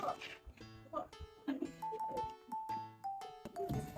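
A puppy gives quiet, high whimpers and short yelps in soft, uneven bursts close by, with faint background sounds in between.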